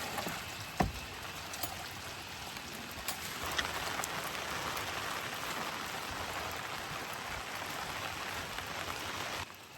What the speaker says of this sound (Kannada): ಮಳೆಗಾಲದಲ್ಲಿ ಕ್ಯಾಂಪಿಂಗ್ ಫುಲ್ ಮಳೆ ಜೋರಾಗೋಯ್ತು